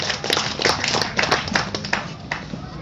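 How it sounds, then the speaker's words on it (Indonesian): Congregation at a Batak youth anniversary worship service claps, with several distinct sharp hand claps standing out over a brief burst of group clapping and background murmur. "tepuk tangan untuk firman Tuhan"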